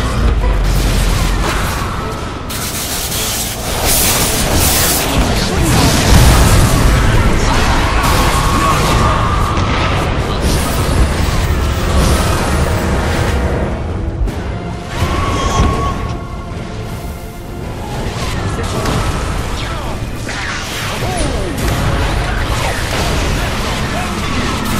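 A Dota 2 tower comes under attack amid a dense, loud clamour of game combat, with booms, bursts and clashing impacts running continuously under an announcer-style voice.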